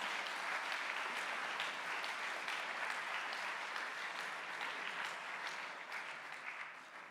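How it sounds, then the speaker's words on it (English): Sustained audience applause at a school hustings held at Pangbourne College, steady and dense throughout, tapering slightly toward the end, with no speech over it. "round of applause for your candidates who are getting into their stride"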